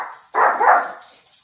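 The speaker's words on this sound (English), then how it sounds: "When he barks, he barks." A puppy lets out one loud, sharp bark close by that trails off into a brief whine. It is heard alone, with no talk over it.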